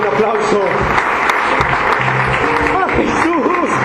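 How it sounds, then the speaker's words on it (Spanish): Church congregation applauding loudly and steadily in a worship service, sustained clapping with a voice speaking and calling out over it. "Vamos a darle un aplauso"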